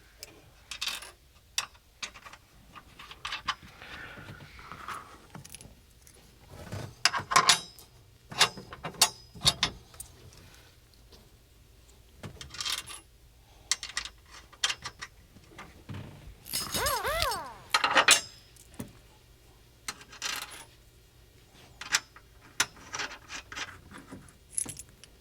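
Metal cups, washers and nuts for a rear strut brace are handled and placed on studs during car installation, giving scattered close metallic clinks and jangles in irregular bursts with quiet gaps and no speech.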